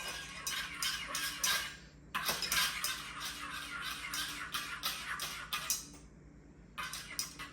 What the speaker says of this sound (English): we're going to stir in the vanilla extract, just a half teaspoon, after this has heated up.